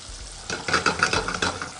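Oil sizzles steadily in a hot wok while a spatula scrapes and stirs garlic and chili in quick strokes, close and fairly loud, with no talking.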